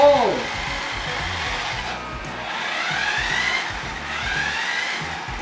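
A 1/24-scale remote-control tractor truck drives with a high electric motor whine that rises and falls in repeated sweeps, close and fairly loud, with voices talking alongside.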